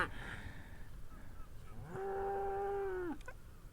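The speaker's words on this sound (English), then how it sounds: "I could see a small herd of very black cows" A black cow in a small herd grazing in a field on a Hebridean island lets out one loud, drawn-out moo close by, with a shorter call before it against quiet outdoor background.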